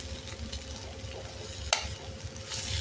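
Kantola (spiny gourd) vegetable cooking in oil in a pan while being stirred, with a steady low sizzle, a few scraping stirs and one sharp clink midway.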